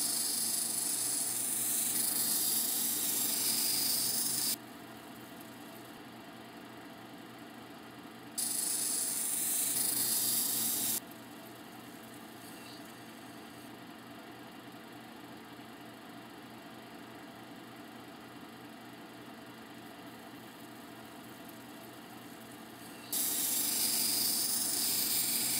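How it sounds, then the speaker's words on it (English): A lapidary wheel smooths the crown of a tiger eye stone cabochon with a steady hiss and whir, growing louder in several stretches as the stone is pressed against it and then easing back to a quieter hum. "Here I am using a rotational motion to smooth out the crown of the cabochon."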